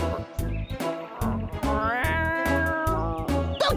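A cartoon cat meows in a long, loud, wavering series of cries, with some background music and effects underneath.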